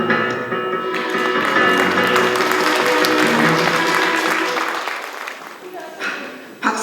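An audience at a Toronto unification forum claps together, a loud full round of applause that swells and then tapers off toward the end.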